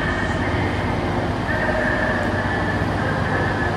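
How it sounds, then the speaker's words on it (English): A train idling beside a station platform in the Humberside area, giving a loud, steady engine rumble and hum that holds throughout with no breaks. "Train on the left here now."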